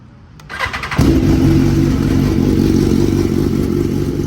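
A sport motorcycle with an Akrapovic titanium slip-on exhaust starts up nearby and settles into a loud, steady, throaty idle that continues without a break and with no talking.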